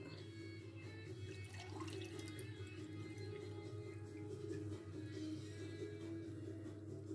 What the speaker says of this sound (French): je remplis 2 verres d'eau